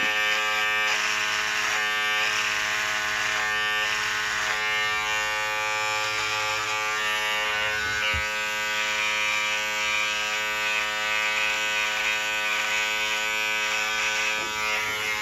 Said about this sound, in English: So first, I'll demonstrate the trimmer,